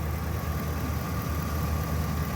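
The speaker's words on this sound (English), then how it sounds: "engine is still idling" A car engine idles steadily, a continuous low rumble with a faint mechanical hum, close by and unbroken, with no voices.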